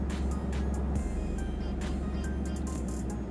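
Car engine starting and settling into a steady idle hum, with a low rumble under intermittent clicks and brief higher whirs, close by and with no talking.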